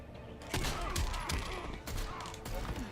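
Deadshot's wrist cannon fires in repeated quick bursts during a fight in the game Injustice 2, loud gunfire-like shots layered with impact effects and game sounds.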